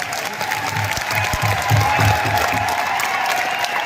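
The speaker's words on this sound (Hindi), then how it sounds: "ऐसे शख्सियत के लिए जोरदार तालियां होनी चाहिए।" Loud audience applause at a fitness product event, a thick roar of many hands clapping with some crowd cheering mixed in, swelling slightly in the middle and holding steady for about four seconds.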